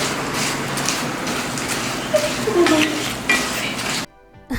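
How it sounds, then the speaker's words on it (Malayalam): Kerala-style beef pickle mixture stirred in a pan, a continuous close sizzle with clinks and scrapes of the spoon against the metal, ending abruptly in near silence. "നമ്മൾ മിക്സ് ചെയ്തുകൊണ്ടിരിക്കണം"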